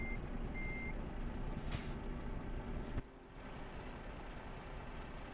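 Reversing beeps from a truck backing up in a truck-driving video game ring out steadily over a low engine rumble, with a brief hiss partway through.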